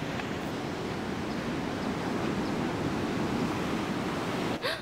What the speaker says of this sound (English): Let's watch a wave. I love waves.